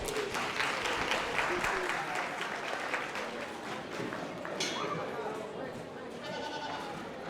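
Applause rings out at a junior livestock show for the kids showing animals, steady clapping with sheep or goats bleating nearby and a voice talking over it.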